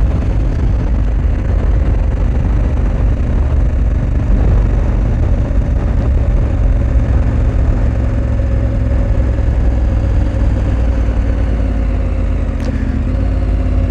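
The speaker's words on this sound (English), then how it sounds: "Acceleration on this thing is crazy." A KTM 1290 Super Adventure R motorcycle engine runs steadily and loudly throughout, with a continuous droning hum and slight shifts in pitch as it accelerates.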